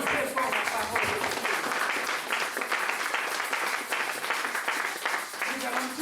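A church congregation applauds steadily, a continuous wash of many hands clapping with shouts and voices mixed in throughout.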